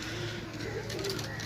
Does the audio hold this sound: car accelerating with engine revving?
no